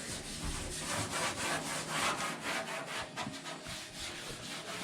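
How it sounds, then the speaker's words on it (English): Steady rasping sanding on a 1952 Ford F1 truck, continuous scratchy friction with rhythmic back-and-forth strokes, close up, no voices. "But we'll keep sanding"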